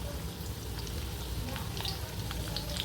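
Thinly sliced garlic fries in a pan for a tomato and pea curry, giving a steady, soft, continuous sizzle with a few faint pops and no voices.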